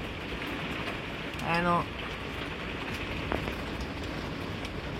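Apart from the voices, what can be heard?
rain falling on a camper van roof and windshield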